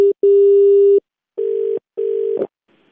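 Telephone tones follow a cut call: a few clear beeps of steady pitch, the first long and the later ones shorter, separated by silent gaps and heard alone.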